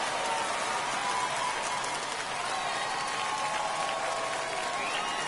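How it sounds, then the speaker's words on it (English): Fans at a minor-league baseball game between the San Antonio Missions and Midland Rockhounds cheer and clap in a steady, broad crowd roar at moderate distance. "Fans cheering loud."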